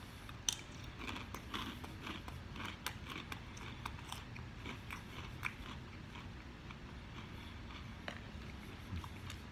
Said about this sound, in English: Very crunchy, as y'all can hear.